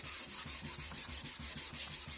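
Sandpaper rubs back and forth along the edges of a wooden board game box in a steady, quick rhythm of about a dozen strokes, close and fairly loud with a gritty scratch.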